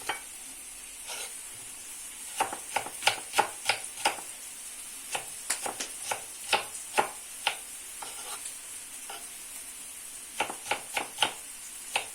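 Liver being chopped into cubes on a board with a knife, giving quick, irregular clusters of crisp taps, close and fairly quiet, with no talk.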